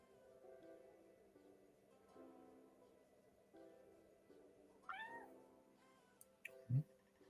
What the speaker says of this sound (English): my cat has come to say hello